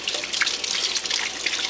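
Water runs steadily from a tap into a sink as it fills, a constant close splashing rush with no pauses and no talking.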